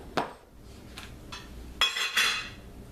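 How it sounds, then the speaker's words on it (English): A kitchen bowl for eggs is lifted out and set down, giving a few scattered clinks and knocks of dishware up close, with a brighter rattle near the end and no talking. "Let's get a bowl that's going to handle the eggs."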